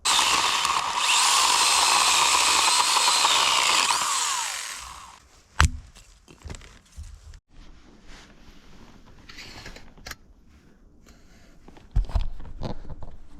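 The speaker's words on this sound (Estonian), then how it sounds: "Mul on see saak ka kaasas. Ma saen nad natuke lühemaks." A saw cuts firewood logs shorter outdoors, a loud, steady rasping burst of about four seconds that then stops, followed by scattered knocks and clunks of the wood being handled.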